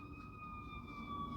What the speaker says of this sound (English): Sorry for the sirens in the background if you're hearing those.